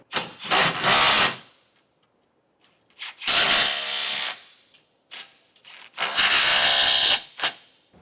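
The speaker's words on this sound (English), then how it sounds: "Now we can tighten everything down with a 19 or 3/4 inch socket." Bolts on a trailer hitch for a 2024 Nissan Frontier driven tight with a 19 mm socket on a power tool, three loud close bursts of whirring and ratcheting separated by short pauses.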